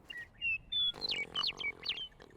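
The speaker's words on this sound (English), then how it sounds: "I love bird sound" Birds chirp in the video game Aloft, giving short bright tweets and whistles, several overlapping calls in quick succession, clear and fairly close with no talk.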